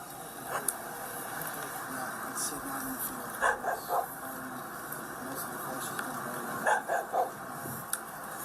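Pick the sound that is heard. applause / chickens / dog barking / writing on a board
dog barking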